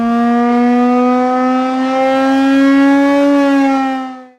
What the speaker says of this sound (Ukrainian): Зараз е, будуть перевіряти апарат, який сповіщують про повітряну тривогу.